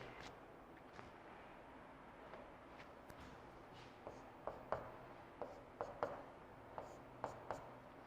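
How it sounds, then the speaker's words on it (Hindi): Handwriting during a chemistry lecture, likely chalk or marker on a board, with soft scratchy strokes and a run of sharper taps and scrapes in the later half, fairly quiet against a faint room background. "चलिए फिर से लिखता हूं।"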